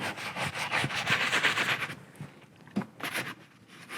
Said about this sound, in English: Despite the time-consuming process of scrubbing, Aiden says every step is worth it.